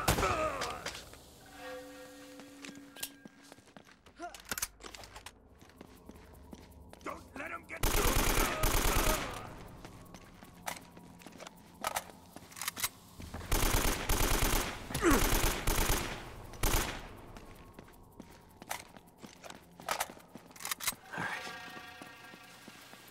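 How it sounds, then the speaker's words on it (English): Bursts of automatic gunfire from the video game Uncharted: Drake's Fortune, loud sustained volleys coming in several waves between quieter stretches of in-game ambience, with a faint voice here and there. "They're shooting at you too, you know"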